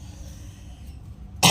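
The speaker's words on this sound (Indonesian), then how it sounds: "aku lagi batuk, maaf ya" A single loud cough bursts out at the very end, alone after near silence, from a person who has a cough while treating a sick cat.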